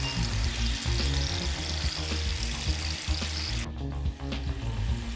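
Onions cooking slowly in steak juices for cube steak, giving a steady close sizzle and frying crackle, with clinking and scraping throughout and a sharp cut in the high hiss near the end.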